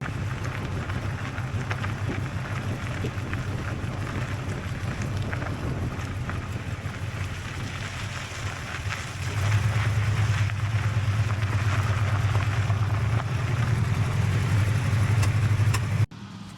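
Engine of an abandoned junkyard muscle car idling steadily, a low rumble that grows louder and heavier partway through, with wind noise and no talk.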